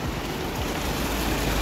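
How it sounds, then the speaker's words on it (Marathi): Light drizzling rain falls at Malshej Ghat, making a steady, even outdoor hiss with no voices. "रिमझिम असा पाऊस पडतोय"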